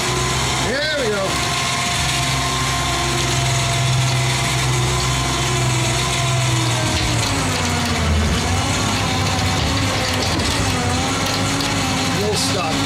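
A Kohler Courage 19hp engine on a Cub Cadet LTX 1040 lawn tractor cranks and runs unevenly, a steady loud mechanical drone that sputters and shifts in pitch, with a voice speaking over it.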